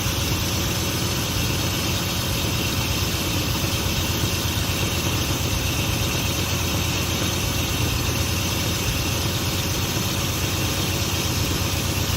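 A Dodge Ramcharger engine idles steadily with a low, even rumble and faint vibration, unchanging throughout, close by with no other sounds.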